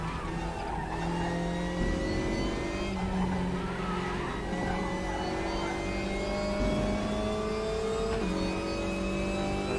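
An Opel Astra TCR race car engine in the RaceRoom racing game drones and revs continuously, with gear shifts stepping the pitch up and down, loud and steady with no talking.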